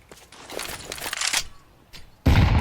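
Several sharp gunshots from Counter-Strike 2 crack in quick succession at moderate volume, followed by a sudden loud burst at the very end.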